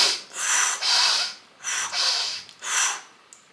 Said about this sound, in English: It's basically you have 30 full inhales.